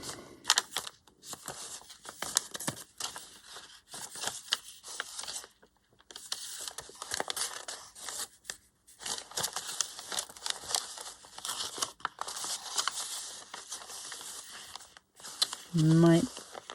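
An envelope being handled and torn open, crinkling, rustling and ripping paper in irregular close bursts with brief pauses, while a person talks throughout.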